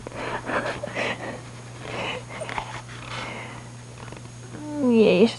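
A house cat purrs softly close by, a low steady rumble under quiet rustling, ending with a brief higher wheezy vocal sound.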